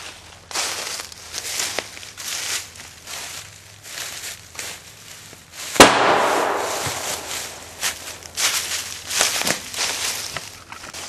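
A Dynatec BFIG airsoft grenade goes off outdoors with a single sharp bang, followed by a gritty hiss and crinkly rustling among leaves and footsteps.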